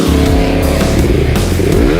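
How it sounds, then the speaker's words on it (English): Stock Yamaha R3 sport bike engine rumbling loud and close for a couple of seconds, with steady revs in a drag-race setting, no voices. "And the bike started."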